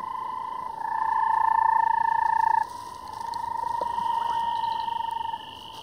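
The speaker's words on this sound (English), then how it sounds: "located a rarely seen banded rubber frog" A long, steady trilling call from a banded rubber frog, a sustained buzzing tone that shifts pitch once, heard close against a hissing night background.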